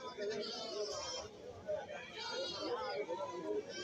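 Goats and kids bleating at a goat market in Kerala, several overlapping wavering cries close by over a crowd of chattering voices, with people talking throughout.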